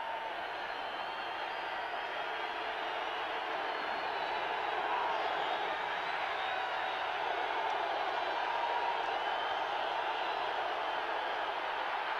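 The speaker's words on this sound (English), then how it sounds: "this will bring even more noise from the crowd" A dense stadium crowd roars steadily at a 1979 NFL football game between the Oilers and Dolphins, heard from a distance, with the cheering swelling slightly midway through.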